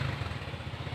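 Rusi DLY125 motorcycle engine idling after troubleshooting a no-electrical-power fault, a steady low throbbing chug with even rapid pulses, close and continuous with no voices.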